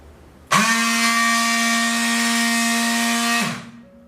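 A JD-13/16 battery-powered strapping machine welding and cutting a strap: a steady, loud motor whine that starts abruptly, holds for about three seconds, then winds down.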